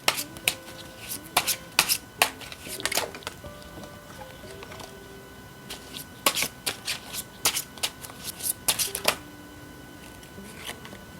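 Tarot cards are shuffled close up in quick crisp riffles and soft slides, several separate bursts with short pauses between them, quiet and without talk.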